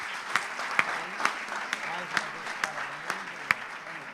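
A church congregation claps at a New Year's celebration service, steady broadband applause with sharp individual claps cutting through at regular intervals while a voice talks over it.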